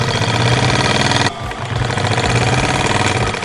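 A sewing machine stitches an ankara sneaker upper with a loud, continuous motor whir and rapid mechanical pulsing, a brief drop just past one second, then resuming at full pace.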